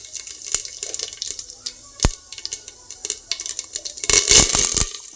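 Cumin seeds and mustard seeds crackle and sizzle in hot oil for a dal khichdi, bright spitting bursts with scattered pops that swell louder near the end.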